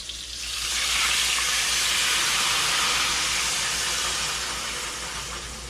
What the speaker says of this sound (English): we're going to add our liquid in the pan